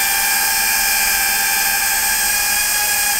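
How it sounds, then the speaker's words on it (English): DJI Avata FPV drone fitted with an Axisflying 3.5-inch kit in flight, a loud continuous high-pitched propeller whine with steady tones throughout. "It seems to be making less noise than the regular AVATA."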